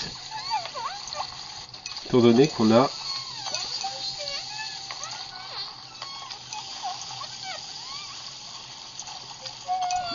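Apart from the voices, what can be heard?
water splashing in the Sprinkle mobile video game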